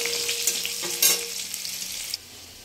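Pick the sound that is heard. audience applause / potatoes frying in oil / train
potatoes frying in oil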